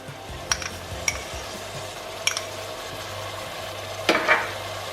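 Meat fries in a pan with ginger and garlic paste for daal, giving a soft steady sizzle broken by a few sharp clinks of a utensil against the pan, the last one louder with a brief scrape.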